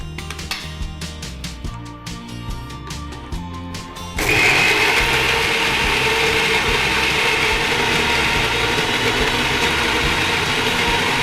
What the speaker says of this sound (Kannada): ಬ್ಲೆಂಡ್ ಮಾಡಿ ಬ್ಲೆಂಡ್ ಮಾಡಿ.